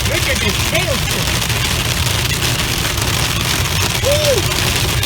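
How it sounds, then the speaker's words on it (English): Hail pelts a car driving through a Central California hailstorm, a dense, loud, unbroken rattle with low engine noise underneath and brief voices over it. "Hail's getting bigger too."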